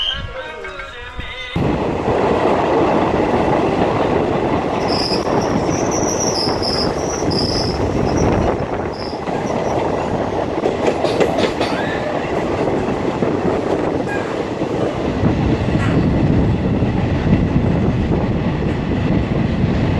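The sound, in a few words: train running on rails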